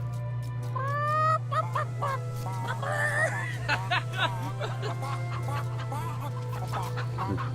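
Chickens in the video game Fable 3 cluck and squawk in quick, uneven bursts, loud and close over a constant low electronic hum.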